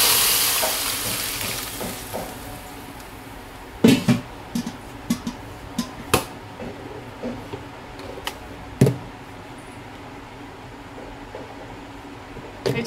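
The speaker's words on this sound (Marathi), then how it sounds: "तर पाणी टाकूया।" Water is poured into a pan of bitter gourds set to boil, making a broad, steady rushing splash with scattered sharp knocks and clinks of utensils against the pan.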